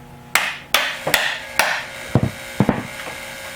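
Sharp metallic hammer blows strike an impact driver set on steel bolts in the aluminum engine cases of a Suzuki LT80 ATV, about seven loud, close hits at an uneven pace with brief ringing after each.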